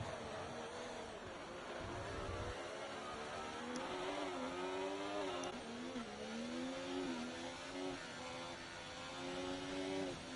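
A race car in a racing video game dives into the pits at the Brazil circuit for a fresh set of hard tyres, its engine a steady mid-pitched drone whose tone rises and falls as it shifts, continuous and fairly close.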